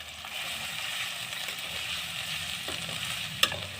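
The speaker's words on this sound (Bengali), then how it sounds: "লোটে মাছের ঝুরি করবো তো পেঁয়াজ কুচি দিলাম" Finely chopped onions fry in a pan for a Bombay duck fish dish, with a constant hissing sizzle, light stirring and one sharp utensil clink near the end.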